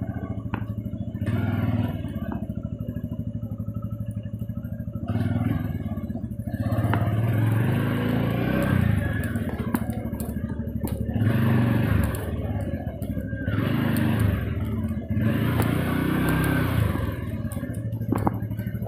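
Motorcycle ride through a residential street while turning into a lane, with a steady close engine drone and rumble throughout, swelling in repeated surges as the throttle is worked, under continuous wind and road noise.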